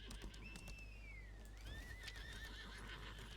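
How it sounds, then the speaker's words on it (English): Horses whinny in the video game Lost Ark, a long rising and falling neigh followed by a second wavering call, with faint bird chirps and steady game ambience behind. "Horse everywhere!"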